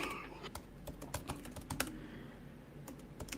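Typing on a computer keyboard: quiet, irregular clicking keystrokes in quick bursts, close and faint, with no talking.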